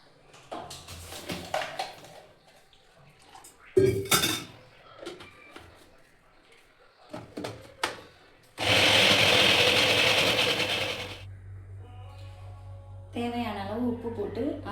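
Mixer grinder blending onion, coriander leaves and salt, a loud steady whir running for about two and a half seconds mid-clip, framed by kitchen clatter and someone talking before and after.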